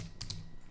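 A couple of quick, faint keystrokes tap on a computer keyboard against a low, steady background hum, with no voices.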